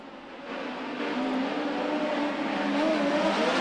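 USAC National and Western States midget race cars running hot laps at Merced Speedway, a steady distant engine drone that swells slightly as the cars circle the track, with no talk.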